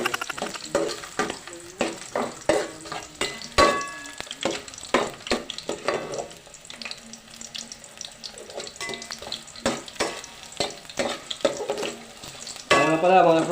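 Onion and ginger sautéing in oil for squid adobo, with a background sizzle broken by frequent clattering stirs and scrapes of a utensil against the pan, plus running-water-like splashes.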